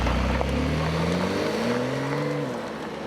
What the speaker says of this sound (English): let's fire up the flat six and get this 450 horsepower 992 moving